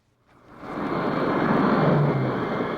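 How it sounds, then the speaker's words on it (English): The US President's jet lands at Dallas Love Field in 1963, its engine roar swelling from near silence into a loud, sustained rumble that holds steady without any speech. "The President's jet lands at the Dallas airport, Love Field."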